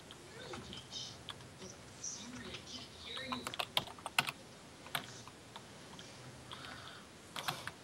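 Computer keyboard keys, including the spacebar, are tapped in quick irregular clicks during a parkour game on a Minecraft-style server, close and fairly faint, with a few sharper presses standing out.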